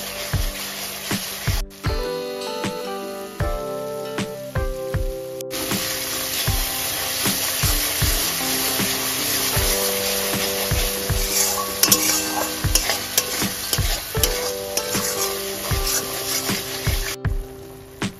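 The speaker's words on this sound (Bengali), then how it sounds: "জাস্ট লো টু মিডিয়াম ফ্লেমে এভাবে ঘুরিয়ে ঘুরিয়ে খুন্তিটাকে কষে নেব মশলা।" Spice paste frying in oil in a pan on low to medium flame for a Bengali rohu fish and cauliflower curry, stirred with a metal spatula: steady close sizzle under repeated scraping and clinking strokes, no talking.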